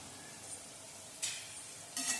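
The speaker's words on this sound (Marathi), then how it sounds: "तर कांदा इकडे आपला परततोय कांदा बघा परतून झालाय आपला" Onion sautés in a pan, a faint steady sizzle broken by two brief bursts of louder hissing and stirring, with no voices.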